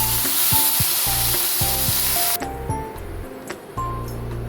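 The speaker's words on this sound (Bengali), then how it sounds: "হলুদ দিয়ে ভেজে নিয়ে ভেন্ডিগুলো তুলে রাখছি।" Okra fries with turmeric in a pan, a dense close sizzle with repeated rhythmic stirring and spatula clinks; the sizzle drops slightly partway through. No one talks.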